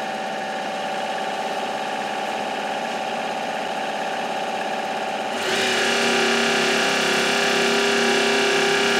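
A Tormach 8L lathe spindle runs steadily at 2,000 RPM, a continuous mechanical whine with layered tones that grows louder and brighter partway through as the speed rises, with no talking.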